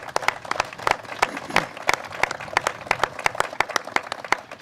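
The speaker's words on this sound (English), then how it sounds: "So let's give him a round of applause." An audience claps at a public event; distinct individual hand claps ring out in a lively, moderately loud round of applause.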